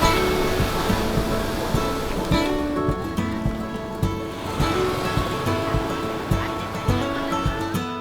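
Gentle sea waves wash steadily onto a quiet, uncrowded beach at a seaside tourist town, a continuous soft surf with no voices.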